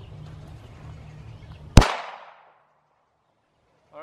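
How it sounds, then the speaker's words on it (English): A single sharp gunshot from a handgun firing a 115 grain Federal full metal jacket round into dirt outdoors, loud and close, with a brief decaying echo, followed by quiet. "first round, I'm just gonna shoot it in the dirt"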